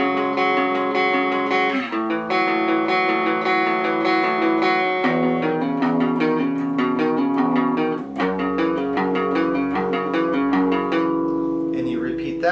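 An electric guitar plays the verse of a song, steady strummed chords with a bright, slightly distorted tone ringing continuously and alone, changing chords every couple of seconds.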